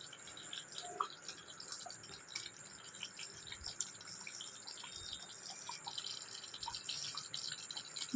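Tap water runs in a steady stream into a kitchen sink while coriander leaves are rinsed, a continuous close wash with a few drips and no talking.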